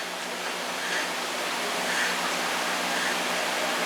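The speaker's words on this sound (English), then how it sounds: "It's making a bubbling noise." Steady, soft bubbling and churning from lab machinery in the Fallout: New Vegas video game, a continuous wash of noise with faint periodic swells, heard alone without talk.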